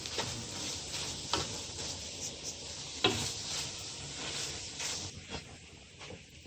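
Semolina that was fried beforehand is stirred into carrot halwa in a pan over low heat, giving a soft, steady sizzle with scattered scraping clicks from the spoon, close and alone.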